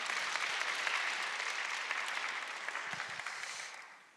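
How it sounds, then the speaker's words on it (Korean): An audience at a church camp leaders' forum applauds steadily to welcome a pastor to the stage; the dense, even clapping stays loud, then slowly fades toward the end. "박수로 환영하겠습니다."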